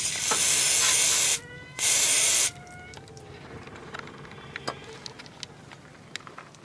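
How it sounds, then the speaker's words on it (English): Two loud bursts of WD-40 penetrating oil spray hiss up close onto an O2 sensor of a 1998 Chevy Lumina, the second shorter, followed by quiet faint clicks and handling noises. "you probably should use some WD-40 and spray that"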